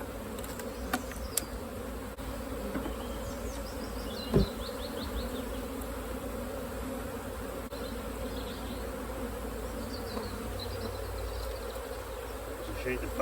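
Honey bees in an open hive being split, buzzing in a dense, steady drone close by, with a few faint clicks and knocks.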